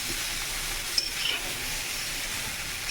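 Potatoes and cauliflower frying for a Bengali fish curry hiss in a pan with a continuous, even sizzle as they are stirred, close but fairly soft.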